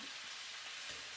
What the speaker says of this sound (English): I'll just turn the heat down a little bit so it doesn't sizzle while I'm talking to you